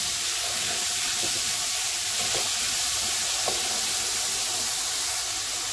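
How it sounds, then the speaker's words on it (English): Chilli con carne with potatoes being stirred in a single pot, giving a steady broadband sizzle and bubbling throughout, with a few soft scraping strokes of the spoon and no talking. "I'm also going to put in some potatoes. Give it a stir."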